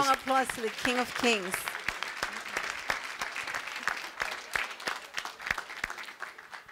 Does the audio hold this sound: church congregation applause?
yes